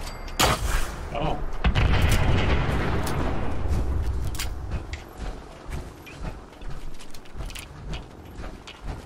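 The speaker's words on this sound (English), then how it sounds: "Two shots. This is a high level sentry gun too." A high-level sentry gun in Fallout 4 opens with a loud booming blast, followed by a rumbling roar that fades into scattered mechanical clanks and sharp impacts.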